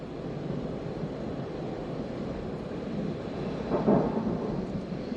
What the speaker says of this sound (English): Okay, good lightning strike there.